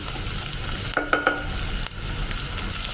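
Garlic and onion hit a hot pan and fry with a steady, close sizzle, broken by a few sharp scraping stirs of a utensil against the pan.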